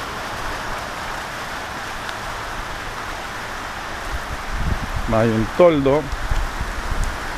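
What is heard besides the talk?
rain falling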